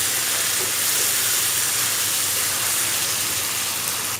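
Onions and spices fry in a pan for a stuffed karela dish, making a loud, dense, continuous sizzle and hiss that stays steady throughout with no voices.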